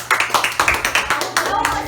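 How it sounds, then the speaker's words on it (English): A grade-school class claps for a group in quick, regular unison beats, about ten sharp claps in two seconds, close and fairly loud, with no talking. "Clap your hands for group 1."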